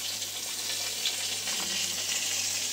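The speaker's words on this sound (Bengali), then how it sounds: "এই দেখো বেগুন ভাজা হচ্ছে" Slices of eggplant fry in hot oil in a home kitchen, giving a continuous, fairly quiet sizzle with no talking.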